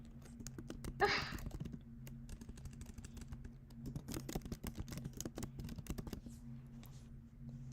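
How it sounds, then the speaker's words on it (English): Typing on a computer keyboard, a quiet, irregular patter of key clicks with brief pauses and a steady low hum beneath. "so busy typing Muscly Woman by Carrie Zeller into Midjourney right now"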